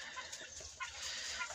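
Young laying hens cluck softly in a small backyard flock, short irregular calls close by over light outdoor noise.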